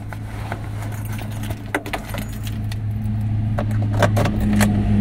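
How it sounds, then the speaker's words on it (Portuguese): Car keys jangle and clink in quick bursts near the microphone inside a 2006 Fiat Fiorino Furgão 1.3 Fire van, with a low engine hum underneath. "É, chave."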